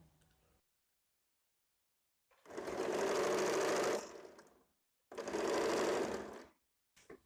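Sewing machine stitching a hook strip on a blouse, running in two sustained bursts of about one and a half seconds each, separated by pauses, close and fairly loud.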